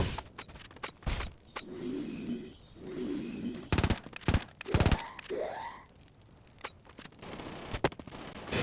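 Gunfire in a video game: scattered sharp shots and short bursts, some loud and close, others quieter, mixed with clattering and breaking-like impacts and a background rumble, with no voices.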